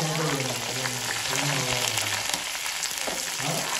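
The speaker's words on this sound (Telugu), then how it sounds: "ఇప్పుడైతే మిరపకాయలు తాలింపంతా మగ్గిపోయిందండి" Red chillies sizzle and crackle in hot oil for tempering, a dense close-up frying hiss with bubbling pops, continuous and steady throughout.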